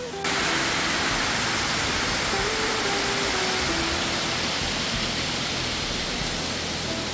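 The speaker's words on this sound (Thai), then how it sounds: "นี่คือน้ำตกเพนพบนะฮะสวยสวยสวยมากที่นี่" Phen Phop waterfall in Loei, Thailand, roars as a dense, steady rush of falling water, loud and close, filling the whole scene without letup.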